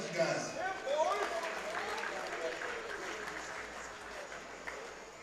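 An audience claps and cheers for Jeff at the 2015 Jack Pinto Cup, a USA vs. The World event. The applause is steady and sustained from a crowd, with voices mixed into it.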